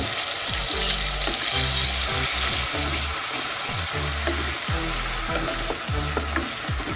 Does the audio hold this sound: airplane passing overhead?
no